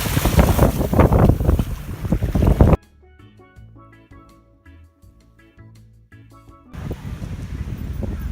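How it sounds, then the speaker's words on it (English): Wind gusts across a breezy Florida beach in bursts of loud, roaring buffeting against the microphone, broken by a quieter middle stretch before the rumble returns. "It's a pretty breezy day here on the beach."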